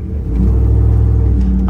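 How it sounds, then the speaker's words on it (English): A 1978 Ford Bronco XLT Ranger with a Coyote V8 engine swap idles and runs after a cold start, a loud, close, steady deep rumble with a slight rise in revs. "let the engine warm up just slightly"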